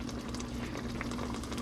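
Covered pot of taro leaves simmering on a lowered stove flame gives a steady low bubbling and hiss, soft and continuous with a faint hum underneath.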